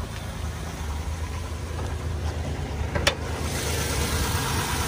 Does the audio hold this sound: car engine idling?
yes